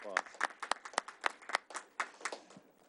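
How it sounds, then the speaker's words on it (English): Scattered applause at a school board meeting, a few people clapping in separate sharp claps that trail off over a few seconds, fairly close in a quiet room. "a round of applause."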